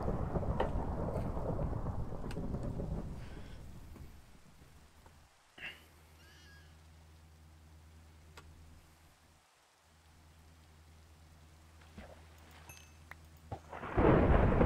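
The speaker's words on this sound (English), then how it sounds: "Saw that lightning go bolt right there?" Rumbling thunder from a lightning strike in a Minecraft-style game storm, a long low roar fading into quiet ambience, with a brief crackle midway and a loud, close thunderclap bursting in at the end.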